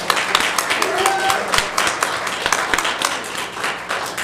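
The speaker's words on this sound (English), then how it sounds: "if you want to give a round of applause to Diane" A congregation at a church meeting breaks into applause, a moderate, fairly steady spread of clapping with a few sharper individual claps standing out, lasting several seconds without talk over it.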